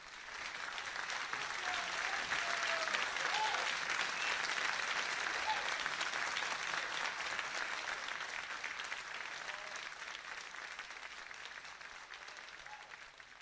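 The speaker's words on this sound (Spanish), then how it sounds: "y la recibimos con un fuerte aplauso" Steady applause welcoming a radio guest, Andy Clark, rises quickly and holds loud and continuous for over ten seconds before slowly tapering, with no talk over it.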